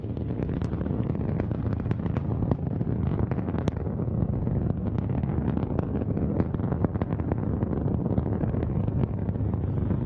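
Rocket engines of Northrop Grumman's NG-16 resupply launch to the International Space Station rumble as a loud, continuous low roar, dense with crackling bursts and buffeting wind-like noise throughout.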